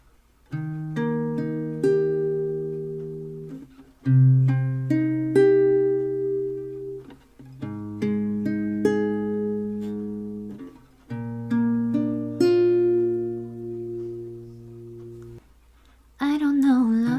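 Beginner acoustic guitar tutorial strumming the root note and the three bottom strings, a series of ringing strummed chords repeated in steady phrases, close and clear with no talking.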